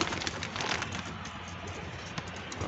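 Pet pigeons kept with cats coo softly and murmur close by over a rustling, busy background, with no talk.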